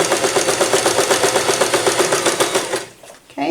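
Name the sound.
sewing machine stitching reusable face wipe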